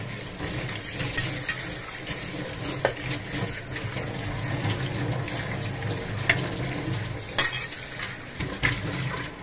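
A burnt iron kadai is scrubbed and washed under running water, with continuous close scraping and sloshing and occasional metallic clinks.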